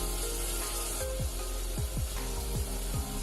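Washed lentils tipped into a pan of frying masala for palak dal, giving a steady close sizzle with scraping and stirring strokes against the pan.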